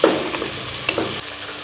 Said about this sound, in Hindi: तो टमाटर को डाल देंगे, और टमाटर को भी हमने अच्छी तरह से पका लेना है।